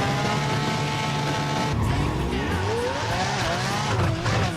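Tyres squeal loudly as a car skids with its rear end sliding out in the Burnout Paradise racing game, the engine roaring steadily underneath and the squeal rising and wavering over the final seconds.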